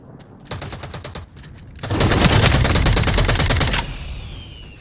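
Automatic gunfire in the sci-fi shooter Eve Vanguard, with short staccato bursts followed by a loud, sustained rapid-fire stream of close shots lasting about two seconds before cutting off.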